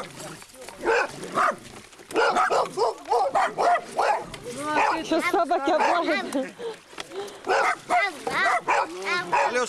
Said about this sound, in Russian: Ронча, меня тут чужие собаки лают